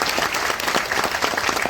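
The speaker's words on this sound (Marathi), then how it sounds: "विभागीय आयुक्त महोदय त्यांच्यासाठी जोरदार टाळ्या या ठिकाणी आपल्याला वाजवाव्या लागतील" Loud, sustained applause from an audience at a revenue week ceremony, honoring the divisional commissioner, with rapid overlapping claps filling the room and no speech over it.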